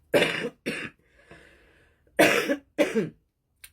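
Several sharp coughs: two quick ones, a faint throat-clearing rasp, then two more loud coughs close to the microphone, with no talk in between.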